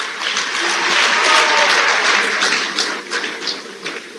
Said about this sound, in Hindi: आपकी तालियों की गूंज सीधे हमारे माननीय प्रधानमंत्री तक पहुंचनी चाहिए। जोरदार तालियां।